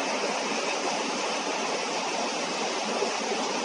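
Water rushing from a spring into a stone-built mill channel, a steady loud hiss of flowing water without change or pause, with no talking.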